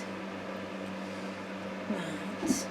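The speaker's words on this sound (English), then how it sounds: "Do apologise if you can hear my fan in the background." An electric fan runs in the background of an indoor crafting session, a steady low hum with a faint airy hiss. A soft rustle of handling comes near the end.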